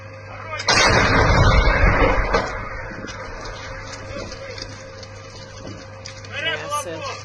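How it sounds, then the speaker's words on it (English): A heavy 203 mm Malka artillery installation fires one powerful boom that rolls into a long fading rumble, followed by quieter ambience and a brief voice near the end. "Work of the heavy artillery installation Malka 203 mm on the position of the armed forces of Ukraine in the area of"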